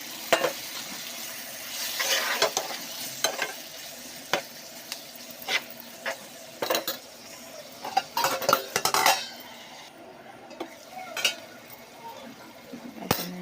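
Spices and minced keema frying and being stirred in a home kitchen pan, with a steady sizzle under repeated scraping and clinking of a spoon against the metal, close and fairly busy throughout.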